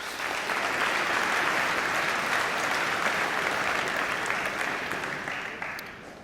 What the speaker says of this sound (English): Let's give him a warm round of applause.